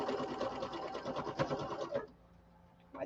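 Sewing machine running steadily as it stitches pinned fabric, a close, busy mechanical whir for about two seconds before stopping, then a brief soft knock near the end.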